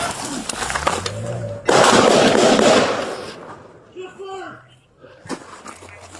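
Gunfire erupts during a police confrontation with an armed suspect: a loud, dense burst of shots lasting over a second, surrounded by shouting and agitated voices.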